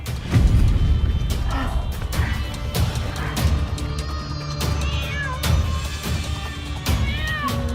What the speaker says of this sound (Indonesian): berisik banget sih nih kucing